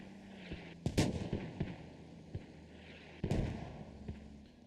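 Mortar rounds in the Squad war game: two heavy booming blasts several seconds apart, each trailed by a rumbling decay, with fainter distant thuds and gunfire in between and no talking.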